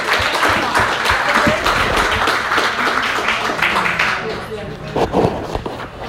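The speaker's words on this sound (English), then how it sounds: "Let's give her a round of applause." Applause from a seated audience at a community meeting, a burst of clapping that tapers off toward the end, with voices and scattered handclaps mixed in.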